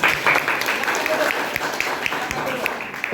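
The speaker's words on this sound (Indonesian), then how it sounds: "Oke, tepuk tangan." A class of students claps during a sociology lesson, a steady patter of many hands with some sharper individual claps standing out, loud and close, mixed with a murmur of voices.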